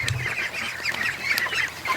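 Geese, gray and white ones among them, honk repeatedly in a busy overlapping chorus of nasal calls, fairly close and continuous, with no talking.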